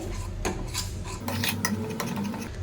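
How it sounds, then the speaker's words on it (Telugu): A spoon stirring a milk-based sweet mixture with cardamom in a pan, close scraping and clinking strokes against the metal in a quick, uneven rhythm. "ఇలా బాగా కలపండి లేదంటే ఇది ముద్దలు ముద్దలు అయిపోతుంది"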